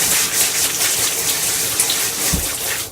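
Water runs steadily from a tap in a caravan, a continuous hissing flow that stays close and fairly loud throughout, with no talk over it.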